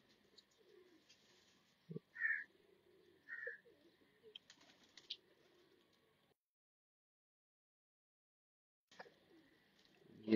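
Pigeons cooing in a loft, with a few soft, separate coos and small chirps rising from quiet surroundings and a brief burst of wing flutter, then silence before a louder stir at the end.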